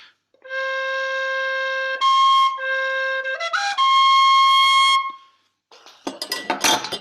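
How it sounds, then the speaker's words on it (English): A C tin whistle plays its low C with all holes covered, a clear sustained tone in several held phrases that briefly slide between pitches, ending with scattered knocking and handling noise. "C whistle, all the notes down,"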